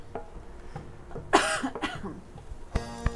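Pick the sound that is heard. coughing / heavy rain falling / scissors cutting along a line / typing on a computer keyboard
coughing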